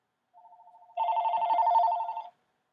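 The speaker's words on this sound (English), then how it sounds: "Sometimes a phone has to ring." A telephone bell rings on a theatre stage, starting with a softer buzzing tone that swells into one loud, sustained electric ring lasting over a second before cutting off abruptly into silence.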